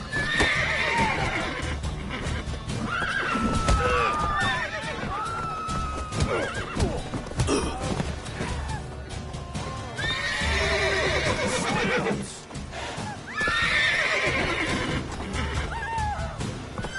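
Horse neighs and whinnies over clip-clopping hooves in The Witcher 3, several calls rising above a busy game backdrop with voices talking between them.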